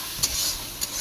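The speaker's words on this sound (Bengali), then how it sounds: "এবার একটু কষিয়ে নেবে" Masala being stir-fried for a Bengali egg curry with chilli powder and a little sugar, a steady soft sizzle with two brief scraping stirs of the spatula, close and alone.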